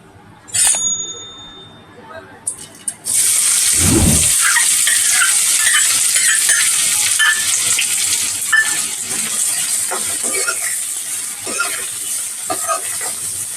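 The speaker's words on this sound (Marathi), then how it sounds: "आपलं तेल गरम झालेलं आहे, त्याच्यामध्ये मी आता कांदा परतून घेते।" Chopped onion drops into hot oil in a pan for chana masala, setting off a loud, steady sizzle. It follows a couple of metallic clinks and continues with occasional stirring scrapes, and someone speaks over it.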